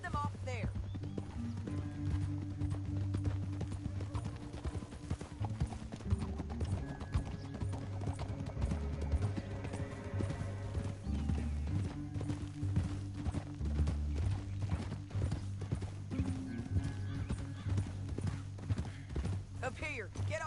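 Horse hooves clip-clop steadily in the Western video game Red Dead, a continuous rhythmic trot under a music score and occasional spoken dialogue.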